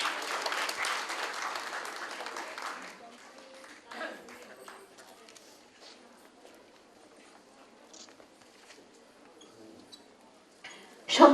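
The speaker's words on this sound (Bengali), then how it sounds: "সবাই জোরে করতালি আবারও।" At a 2014 ceremony for the 115th birth anniversary of poet Kazi Nazrul Islam, a hall audience claps loudly for about three seconds, then the applause dies away into a quiet room with scattered faint noises before a sharp sound at the end.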